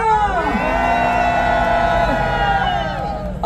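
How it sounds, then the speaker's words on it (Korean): Rally crowd outside the Constitutional Court raising a cheering shout, many voices whooping and yelling together in a loud sustained roar that swells and holds for a few seconds. "헌재를 향해서 응원의 함성 부탁드리겠습니다"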